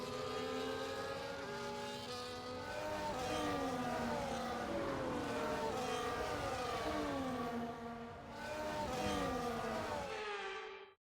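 F1 race cars on the formation lap in the video game F1 24, several engines droning together with overlapping rising and falling whines, loud and continuous, fading away at the very end.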